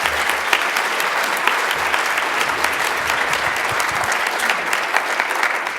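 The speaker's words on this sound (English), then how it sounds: "huge round of applause for Kathy" Audience applauding a keynote by the ISOC CEO at the NetHui 2015 conference, a dense, steady wash of many hands clapping at even strength for the whole stretch, with no voices over it.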